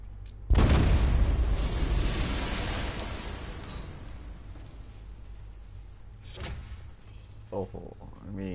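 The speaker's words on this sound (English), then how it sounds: "I'm not far enough away to detonate the explosive." A loud explosive detonation in a Batman video game, a sudden heavy boom that rumbles and fades over several seconds, followed by softer game sounds and clatter.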